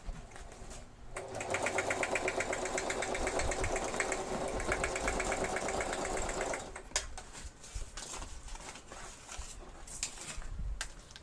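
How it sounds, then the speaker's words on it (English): A sewing machine runs at a fast steady rhythm for several seconds of rapid mechanical stitching, then stops, leaving quieter handling clicks and bumps. "I have my sewing machine."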